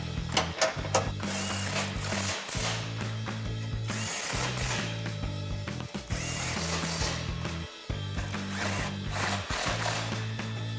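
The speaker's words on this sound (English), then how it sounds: "grab your 18mm socket to tighten down your 4 bolts" A ratchet with an 18mm socket tightens bolts on a Magnaflow exhaust for a Jeep Gladiator JT: rapid, close clicking in repeated bursts of a couple of seconds with brief pauses between strokes.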